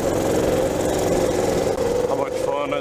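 Small mini bike engine running steadily while riding across the desert, a loud continuous buzzing drone with a faint pitch rise near the end.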